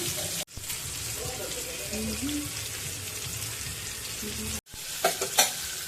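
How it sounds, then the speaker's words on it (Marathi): Pomfret fish fries in a pan over a low flame with a constant soft sizzle, broken by a couple of brief cuts, with faint clinks and a short watery splash near the end. "गॅस मंदाच्यावरच ठेवायचा आहे तीन ते चार मिनटं फ्राय करून घेऊया"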